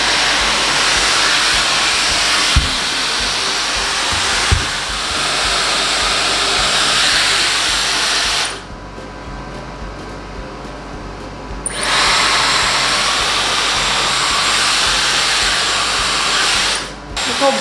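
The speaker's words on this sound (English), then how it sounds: "I will be diffusing my hair." Hair dryer fitted with a diffuser, drying hair. A loud, steady close-up whoosh of blowing air with a motor hum. It drops to a lower setting for a few seconds partway through, then returns to full power.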